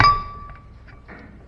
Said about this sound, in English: Use a hammer, just tap it under